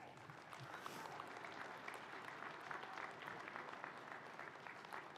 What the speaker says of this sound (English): please join me in a round of applause for Rick Pedro at the keyboard